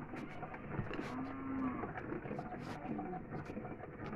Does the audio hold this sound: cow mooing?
yes